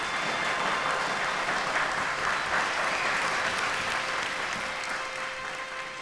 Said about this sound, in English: She was introduced to thunderous applause.